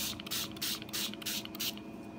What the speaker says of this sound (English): you're going to take your spray bottle and you're going to squirt water on it